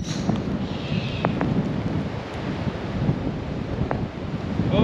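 Strong gusty wind buffets the microphone on a golf course as a storm approaches, a steady loud roar with low rumbling throughout and no voices.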